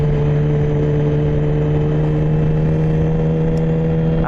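A Yamaha R6 motorcycle engine idling in rainy weather, a steady loud low drone holding constant throughout with no revving, close to the listener.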